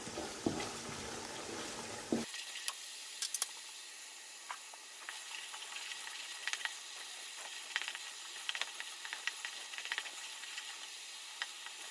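Masala for chicken handi fries in a pot with a splash of water, giving a soft continuous sizzle with scattered crackles and stirring scrapes; louder at first, then settling into a quieter fry.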